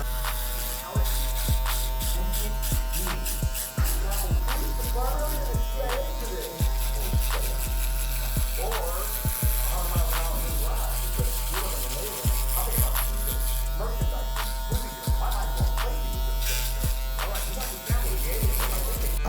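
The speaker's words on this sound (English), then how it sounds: "you can come down with the shaver, and that will help soften that line" A steady electric buzz of a shaver runs throughout, with regular brief dips as it passes over hair, close and continuous.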